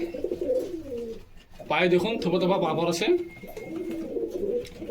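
Pigeons of several breeds coo repeatedly at close range in a breeder's loft in Beldanga, Murshidabad, with someone talking over and between the calls.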